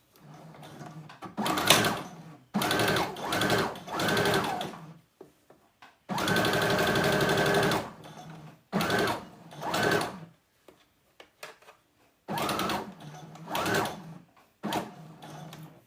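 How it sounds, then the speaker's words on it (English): A sewing machine stitches a seam with a 5/8-inch seam allowance in a series of steady whirring runs separated by brief pauses, close and clear with no talking. "I'm going to sew this in place."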